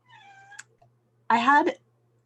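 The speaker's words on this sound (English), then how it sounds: "you're gonna hear my cat meowing in the background." A cat gives two clear meows, a thin rising one and then a louder, fuller one a moment later, close by with no talking.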